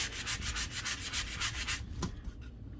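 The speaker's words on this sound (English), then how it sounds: "I'm gonna go to the softer, less coarse side, and I'm just gonna lightly sand in the center as well as the design" Light sanding on a wooden photo hanger with the softer, less coarse side of a sanding block, a rapid rhythmic scrubbing of even strokes close by that stops abruptly, followed by a brief tap.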